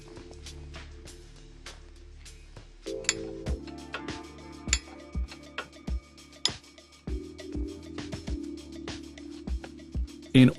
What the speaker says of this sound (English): Remove the grease cap and then the central screw.